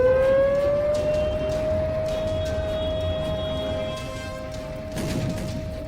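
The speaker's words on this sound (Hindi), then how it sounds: "एयर स्ट्राइक के सायरन कभी भी गूंज सकते हैं।" An air raid siren wails continuously, its steady tone slowly rising and holding, loud over a rumbling background with a few distant knocks.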